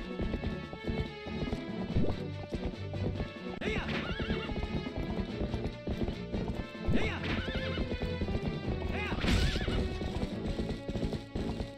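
A horse in the video game Twilight Princess trots with rhythmic clip-clopping hooves and repeatedly neighs, loud and close, with game sound effects layered over a continuous backdrop.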